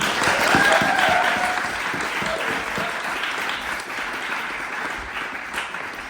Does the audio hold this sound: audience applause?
yes